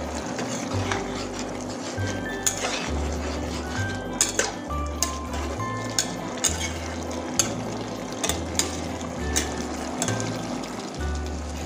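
A spoon stirring katla fish head curry with pea greens in a pot, with scattered metallic clinks and scrapes over a low steady hum, close by and without speech.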